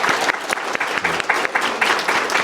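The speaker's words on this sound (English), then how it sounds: "I want to just pause for a round of applause to thank David Adelman." An audience applauds to thank a guest at a leadership center conversation event, a dense steady clapping that stays close and fairly loud throughout with no pause.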